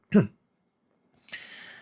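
A single short, throaty cough, then a breathy rasping sound after a pause, close and alone.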